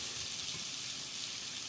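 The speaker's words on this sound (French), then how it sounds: "vous mettez un morceau de beurre dedans et vous faites revenir vos légumes" Garlic and vegetables frying in a knob of butter in a pan give off a steady, soft sizzle that holds even and unbroken throughout, with no voices over it.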